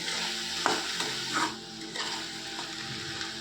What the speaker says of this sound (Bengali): এই সময় একটু আদা দিয়ে দিচ্ছি আমি ওর মধ্যে, দিয়ে ভালো করে মিশিয়ে নেব